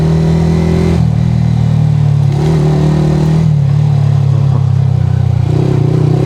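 A sport bike's engine revs during a motorcycle ride, a loud, close, continuous drone whose pitch rises and falls in steady surges, with no voices.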